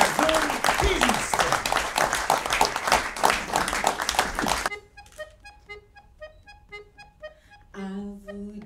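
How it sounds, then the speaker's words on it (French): An audience claps dense and loud for several seconds at a French comedic mock press conference, then the clapping stops abruptly and a gentle melodic instrumental tune takes over. "sous vos applaudissements"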